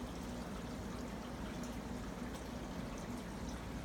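An aquarium pump circulates water through a refugium filter, producing a constant soft rushing and trickling hiss with a faint low hum underneath, steady and close.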